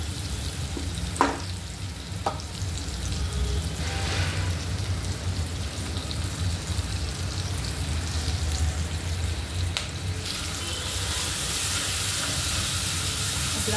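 Ginger-garlic paste hits hot oil for a surmai fish curry, sizzling steadily and close, with a few sharp clinks of a spoon stirring and a brighter hiss toward the end.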